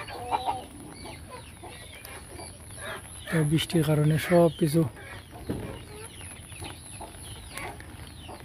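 Farm chickens cluck in a rapid, loud burst of repeated calls from close by during a rainy day, while someone talks over the scene before and after.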